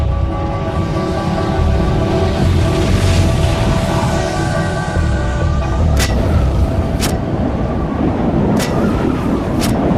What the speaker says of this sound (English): A series of booms could be heard hundreds of miles away.